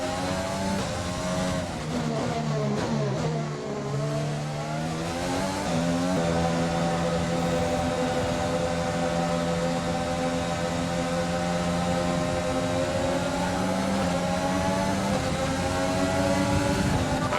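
An F1 car in the F1 2020 video game pulls out of the pits at the Azerbaijan Grand Prix, its engine loud and continuous, revving and shifting early before settling into a high sustained whine.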